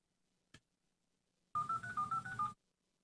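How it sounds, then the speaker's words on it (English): An ECM-103 300-baud direct-connect modem dials out through its small built-in speaker, a short click followed by a quick run of about seven DTMF tone bursts lasting around a second, heard alone in a quiet room. "the modem has a little speaker on it, so you can hear the call starting"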